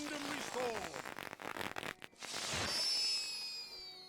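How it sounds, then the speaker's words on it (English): Fireworks bursting in The Lord of the Rings Online, crackling pops and booms followed by a sustained shimmering fizz and whistling tones, with a voice briefly talking at the start. "I love these fireworks."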